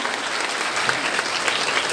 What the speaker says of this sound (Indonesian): Tepuk tangan sekali lagi untuk Ibu Bupati Indramayu